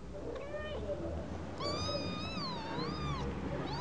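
Young kittens mew twice in thin, rising and falling cries, the second one longer and more drawn out, over a busy indoor background of low rumble and quiet voices.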